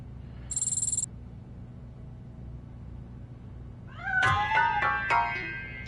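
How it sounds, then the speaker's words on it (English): A cat meows in the RoboCop video game, a short series of clear, rising and falling cries close by near the end, following a brief high electronic tone and low ambient hum. "That cat must be hiding inside."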